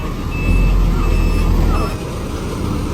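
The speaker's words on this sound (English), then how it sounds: "all these flatbed trailers have to turn around and drive out" Flatbed trailer trucks back up at a tight crane site, their steady high reversing beeps repeating over a heavy diesel engine rumble, loud and close throughout.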